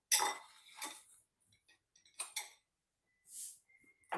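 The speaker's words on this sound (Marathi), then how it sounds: "आता मी कढई परत ठेवते." A kadhai pan set back on a kitchen stove, a few sharp metallic clinks and knocks spaced apart with quiet gaps between, close and fairly faint.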